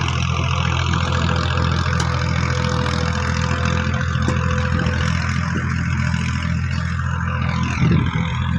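A tractor engine runs steadily and loudly throughout, a constant low mechanical drone with a slight swell near the end, as if revving briefly.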